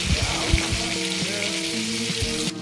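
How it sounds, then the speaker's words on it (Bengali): Whole pointed gourds (potol) fry in a pan for a mustard-sauce dish, giving a steady, close sizzle with a few soft thumps and clinks as they are moved. "যেহেতু এটা গোটা গোটা পটল বলে এটা ভাজতে একটু দেরি হচ্ছে, এর জন্য আমি এটাকে ঢেকে ঢেকে ভাজবো"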